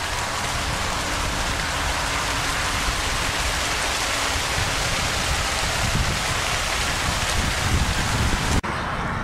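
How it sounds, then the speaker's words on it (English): Heavy rain pours down at Avebury, England, in a dense, continuous hiss, loud and close, with no voices, cutting off abruptly near the end. "It's raining hard now."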